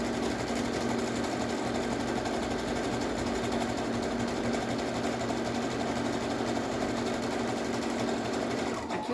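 Sewing machine stitching the lining of a pair of panties, a steady continuous mechanical whir running close and unbroken throughout.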